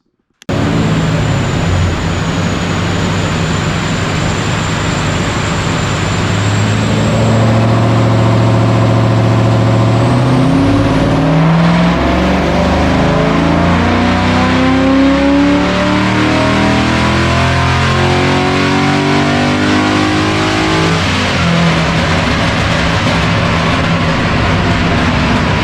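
A VE/VF Commodore track ute engine is revved hard on a dyno, a loud continuous roar that climbs steadily in pitch over a long pull, with a high whine running above it.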